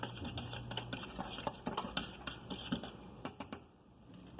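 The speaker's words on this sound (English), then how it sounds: "put the cornstarch and the sugar in the pot. And just real quick, whisk it together" Whisk stirring cornstarch and sugar together in a cooking pot, quick rapid ticking scrapes of wire against metal, close and fairly faint, in short bursts.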